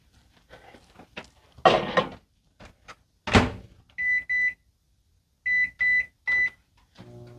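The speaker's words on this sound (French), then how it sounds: "on le met 55 minutes au micro-ondes, tout simplement" A microwave oven heating pea soup beeps in a series of short, sharp electronic tones, mixed with clunks of its door and handling noises close by.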